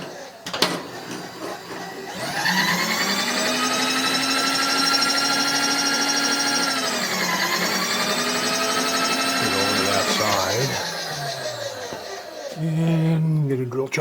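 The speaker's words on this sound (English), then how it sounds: "just hold this and then just drill the hole" A drill press bores a hole in a Kerzel gas tank top plate, its motor whining in a sustained, loud, tonal drone for about ten seconds. The pitch dips briefly midway, then the whine cuts off, leaving faint background sounds.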